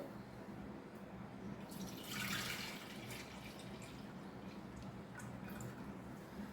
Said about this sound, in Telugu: ఇప్పుడు ఈ గంజి పోసేస్తున్నా ఇందులో